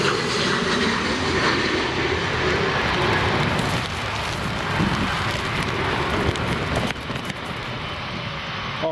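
A fixed-wing airliner roars steadily through a crosswind landing at Newcastle Airport during Storm Gerrit, its engine noise loud and continuous, blended with heavy wind and rain rushing over the microphone.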